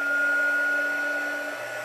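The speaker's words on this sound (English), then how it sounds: "Now we're going to heat set it with a heat tool" A handheld craft heat tool blows hot air to set embossing powder on a stamped card, giving a steady, even whirring hiss with a thin high tone that runs the whole time, close and fairly loud, with no talking.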